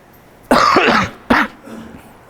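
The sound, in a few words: coughing from a cold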